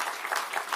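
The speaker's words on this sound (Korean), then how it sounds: "이쯤에서 박수 한번 좀 쳐야 되는 거 아닙니까?" An audience at a political speech breaks into applause, a short burst of many hands clapping close together. It fills less than a second.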